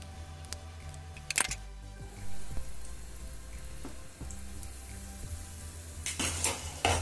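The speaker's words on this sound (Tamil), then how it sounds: "இப்போ நம்ம ஒவ்வொரு குழியிலையுமே அப்பத்தை ஊற்றிடலாம்." Appam batter poured into hot ghee in the cups of a paniyaram pan, giving a steady close sizzle and crackle with occasional clinks of utensils on the pan.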